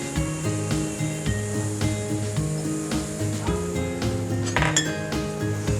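A utensil scrapes and clinks against a pan as red chili powder, Kashmiri chili and coriander powder are stirred into onions, with steady rhythmic scraping over a soft musical background, no talking.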